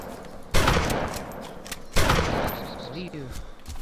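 Two sharp, loud gunshots in the DayZ survival game crack out about a second and a half apart, each trailing off into a rough echo, with a faint voice in the background.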